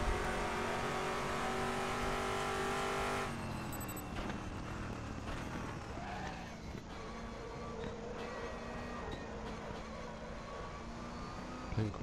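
A Saleen S7R GT1 race car engine in the RaceRoom racing game, driven at Sepang, roars at steady high revs before easing off into a rougher, fluctuating drone with small shifts and bumps, loud and continuous throughout.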